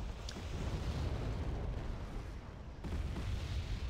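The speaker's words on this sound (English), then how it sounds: "MiG-29 bombing again." MiG-29 bombing run in the real-time strategy game Wargame: Red Dragon, a heavy rumbling barrage of explosions rolling on continuously and loudly with a brief dip before resuming.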